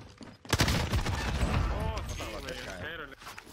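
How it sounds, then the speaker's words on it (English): Call of Duty Warzone gunfire crackles in a burst of rapid shots at the start, with battle noise carrying on under overlapping voices. "They're shooting at people over here that are ghosted."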